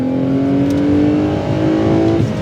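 A Toyota Crown Athlete engine revs hard and climbs in pitch as it accelerates, loud and close, with a steady rising drone throughout.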